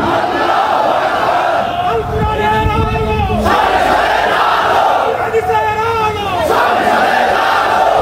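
Large outdoor rally crowd in Bangladesh roaring a unison religious chant, sustained and loud with rising and falling harmonic swells, two waves of massed voices over about eight seconds.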